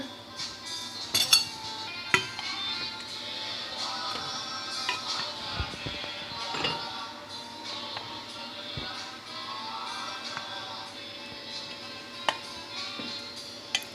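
Bowls and metal utensils clink and tap intermittently while rice porridge is served into bowls in a home kitchen, a scattering of small sharp clinks over a quiet background.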